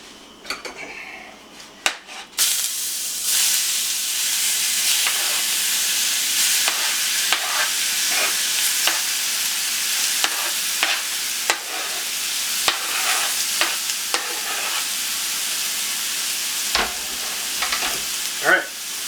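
Steak searing in a preheated hot pan, a loud sustained sizzle right up close with intermittent clinks and scrapes of utensils against the pan, no speech over it.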